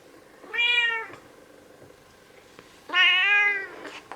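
A pet cat that has just started going outside gives two clear, drawn-out meows about two seconds apart, close and loud against a quiet room.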